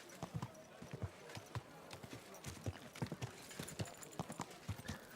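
Steady clip-clop of horse hooves on ground in Kingdom Come Deliverance 2, a fast rhythmic stream of close hoofbeats with low background ambience and no voice over the steps.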